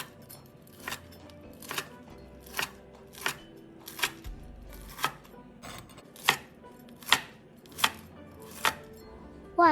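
A knife slices through Hakka-style fried pork belly marinated in fermented red bean curd, giving about a dozen crisp, evenly spaced chops against a board, close and distinct with no talk.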